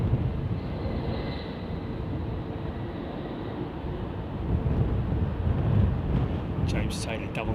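An Airbus A380 on final approach to runway 09 in breezy conditions, a low, rumbling engine drone mixed with wind buffeting that swells slightly toward the end.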